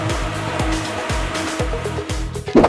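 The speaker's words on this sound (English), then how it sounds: "We use a Haydn industrial dehumidifier and a Haydn industrial fan to ensure the floor is completely dry" A Haydn industrial fan and dehumidifier run together while drying a garage concrete floor, giving a steady close-up blowing roar with a regular pulsing thump repeating about twice a second.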